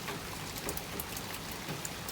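Steady rain falls outside in a continuous, even hiss with faint scattered drop ticks, moderately quiet and without voices.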